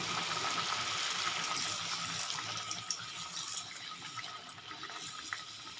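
Radhaballavi frying one at a time in hot oil in a kadai over medium gas, a continuous close bubbling sizzle that stays steady and slowly softens.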